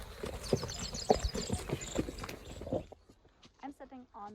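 Horses being ponied along beside a rider on an 8-year-old lead mare clip-clop in a quick, steady hoof rhythm nearby, the hoofbeats fading at the end as a voice briefly speaks.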